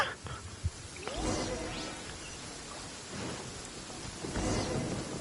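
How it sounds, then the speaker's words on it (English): A thunderstorm with rain in the video game Genshin Impact, with steady rain hiss and several deep rolling thunder rumbles and cracks, fairly close, and no talking. "Uh-oh! Lightning storm!"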